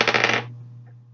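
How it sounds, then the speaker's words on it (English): Dice rolled during a classroom math exponent activity, a rattling clatter of dice for about half a second, then a faint bounce as they settle. "I'm going to roll the dice,"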